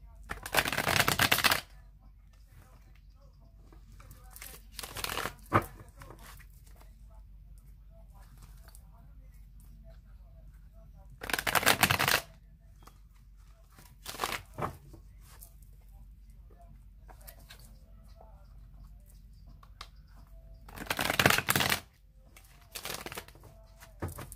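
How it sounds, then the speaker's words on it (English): Three separate bursts of card shuffling, each a quick riffling flutter a second or two long, separated by long quiet stretches. "Aquarius says I'm going to shuffle it 3 more times."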